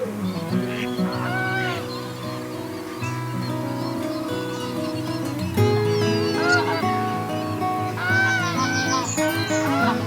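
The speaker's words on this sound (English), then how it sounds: "there's some gulls about, some Canada geese, so there are definitely birds about" A flock of Canada geese honks continuously at a wetland, many overlapping calls, loud and nearby, swelling toward the end.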